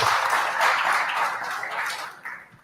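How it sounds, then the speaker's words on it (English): A crowd at an Xbox fan event applauds steadily, dense clapping that holds for a couple of seconds and then tapers off. "give yourselves a round of applause for being here"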